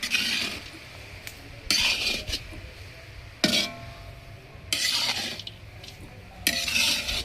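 Carrot gajrela with cashews and almonds is stirred in a pan, five distinct bursts of a spoon scraping and clinking against the metal, close and moderately loud, with quieter pauses between strokes.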